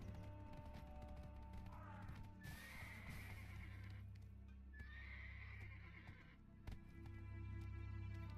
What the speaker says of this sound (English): And this is about as fast as my horse will run.